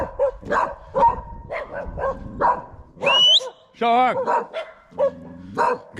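Several territorial street dogs, one a young white dog, bark and yip in sharp bursts at close range while someone shouts at them over the barking.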